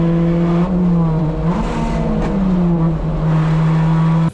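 A Toyota Corolla engine idles loudly and steadily up close, its low hum wavering slightly as the revs shift, with no voices.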